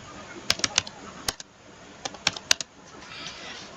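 Someone types an SQL query on a computer keyboard: short bursts of crisp, close key clicks in small clusters with brief pauses between, over a quiet background.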